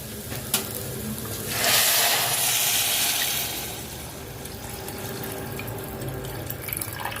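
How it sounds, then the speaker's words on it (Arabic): Water pours from a tap into a cooking pot for Egyptian rice with vermicelli, a steady rushing splash that swells for a couple of seconds and then settles into softer trickling. "ترجع اضيف الميه"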